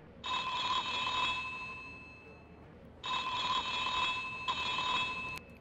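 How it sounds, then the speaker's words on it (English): Telephone ringing in The X Files FMV video game: two bursts of electronic bell-like trills, the first lasting about two seconds, then a pause before a longer double ring, heard alone over a faint background hiss. "Can you guys hear the phone ringing?"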